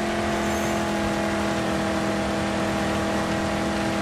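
A car engine in the Mad Max video game roars steadily at high revs with nitro boost engaged, a loud, constant, close drone that holds without letup.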